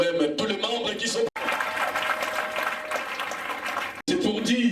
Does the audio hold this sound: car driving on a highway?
no